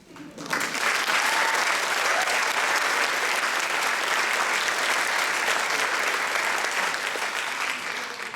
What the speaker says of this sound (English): you guys can take a break from the applause just for now